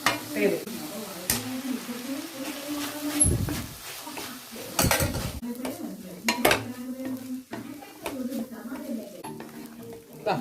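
Rice sevai upma is stirred and fried in a pan, with a soft sizzle under repeated scraping and clinking of a spoon against the metal, close by, and some speech in between.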